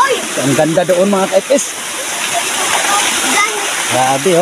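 Rushing water flowing across a footpath near a waterfall, a steady broadband hiss under someone talking to the camera and a voice.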